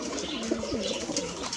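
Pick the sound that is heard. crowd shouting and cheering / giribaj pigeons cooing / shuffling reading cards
giribaj pigeons cooing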